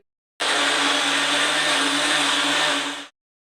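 An electric kitchen mixer runs at full speed for about three seconds as it crushes mango ice cream, giving a loud, steady, close whirring roar that starts and stops abruptly. No one speaks.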